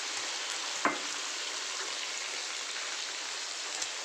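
Onion, tomato and green chili paste frying in a pan for mutton curry gives a steady, close hiss of sizzling oil, with one sharp clatter near the start and a faint tap toward the end.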